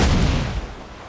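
Ship cannons firing in Assassin's Creed IV: Black Flag during a naval battle, a heavy booming blast that rolls off and decays over about a second, loud and close.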